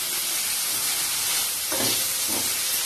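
Chopped tomatoes added to sautéing onions in a pan, giving a loud, dense, continuous sizzle that swells briefly partway through, with no voices.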